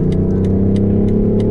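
A 400 hp car accelerates hard to overtake on a road stage, its engine note loud, steady and close throughout the short burst, with no talking.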